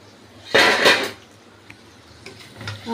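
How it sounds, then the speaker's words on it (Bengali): A lid comes off a pot of cooking mutton kosha with a short metallic clatter, two quick clanks close together, followed by near quiet and faint kitchen clicks. "আবার খুলছি ঢাকা।"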